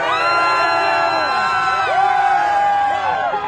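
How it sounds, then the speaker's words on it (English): A large crowd cheers at the Atlanta Braves World Series victory parade in Cobb County, a continuous loud roar of shouts, whoops and rising yells from many voices. "Let's hear from the crowd."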